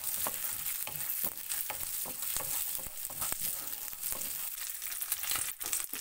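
Chana dal, urad dal and garlic cloves fry in a hot pan with a steady, close sizzle, broken by frequent scrapes and clicks of stirring throughout.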